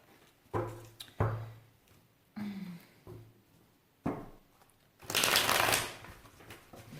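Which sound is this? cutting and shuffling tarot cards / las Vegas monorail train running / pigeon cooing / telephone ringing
cutting and shuffling tarot cards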